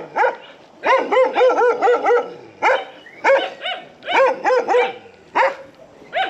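Several dogs, a mother and her puppy among them, bark in bursts of quick, high yips and barks, close and loud, with short pauses between clusters.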